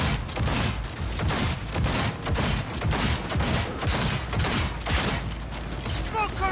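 Rapid, continuous video-game gunfire rattles throughout as a target is shot at, dense fusillade bursts with faint mechanical clicks, loud and close.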